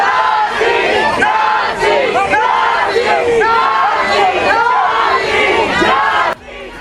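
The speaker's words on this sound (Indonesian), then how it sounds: "Kerumunan massa berkumpul melayangkan protes dengan teriakan slogan menentang imigrasi dan bea cukai ICE Amerika Serikat" Crowd of protesters against ICE shouting slogans outside the Bishop Henry Whipple federal building in Minneapolis at night, a loud, continuous mass of chanting and yelling voices that drops off abruptly near the end.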